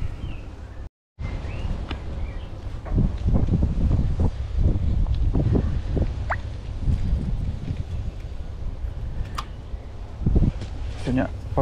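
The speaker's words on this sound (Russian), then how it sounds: "Сегодня погода, конечно, ветреная." Gusty wind blows outdoors at a new lake or pond, a steady rough rush and microphone buffeting that persists for the whole stretch apart from a brief dropout, with soft voice sounds underneath.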